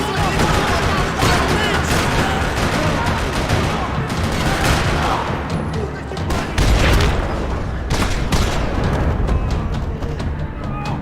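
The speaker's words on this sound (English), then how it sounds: "Another parking lot rattling with gunfire." Dense, continuous gunfire fills a parking lot shootout in the video game Max Payne 3, with rapid bursts, rattling automatic fire and heavy booms overlapping loudly throughout, while a voice talks over the barrage.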